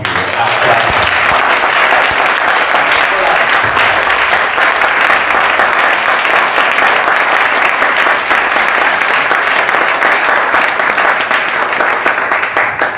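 A church congregation bursts into sustained, loud applause, a dense wash of clapping that fills the room evenly for the whole stretch, with voices mixed in under it.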